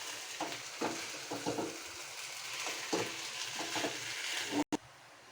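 A coconut burfi mixture being stirred in a pan gives a soft sizzle with repeated scraping strokes of a spoon in an uneven rhythm, quiet and close, ending with a brief dropout.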